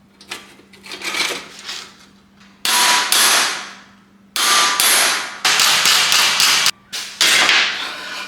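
Hammering sheet metal to bend a rust repair patch, a series of loud, sharp metallic blows in uneven clusters, close and ringing, with faint low hum between strikes.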